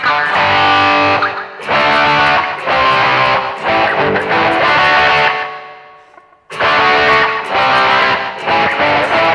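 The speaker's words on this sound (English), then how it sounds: "I want to make it a little bit more livelier, so that's why I add the delay." An electric guitar played through a BOSS eBand JS-series amp with delay and distortion strikes loud, sustained chords in bursts, each ringing out with echoing repeats, one phrase fading to near silence before the playing resumes.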